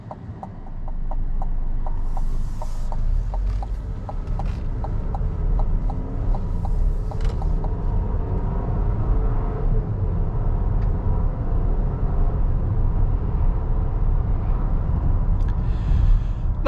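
A 2025 Chevrolet Traverse High Country four-cylinder engine while driving, a steady low cabin drone with road rumble and a faint rhythmic ticking early on, no one speaking.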